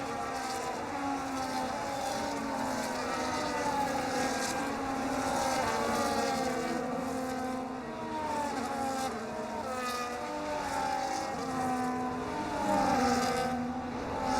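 Race cars in an F1 25 game session lapping to warm their tyres before the race start, a continuous layered engine whine with shifting pitches, steady and fairly loud throughout, no voices.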